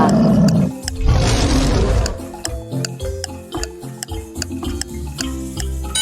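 A lion lets out a deep, loud roar up close, followed by a steady ticking rhythm like a clock or timer.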